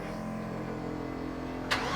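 A Chevrolet C10 truck with an LS engine and fresh spark plugs cranks steadily for a moment, then fires and catches with a sudden loud burst before settling toward a rough idle, heard close up without talking.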